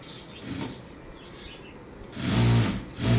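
A small hobby sewing machine runs in short bursts at home, a faint whir at first, then two louder close-up buzzing spurts near the end.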